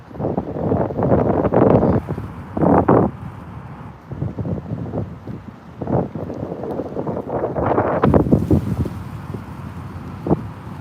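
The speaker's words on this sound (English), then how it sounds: "Oh no, not the wind, man." Wind gusting across open water while crappie fishing from shore or boat in New Jersey in March, loud rumbling buffets on the microphone rising and falling, with rustling.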